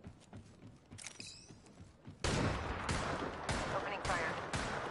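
Gunfire in a battle royale video game, quieter shots at first, then a loud sustained stretch of rapid repeated fire, with a game voice heard.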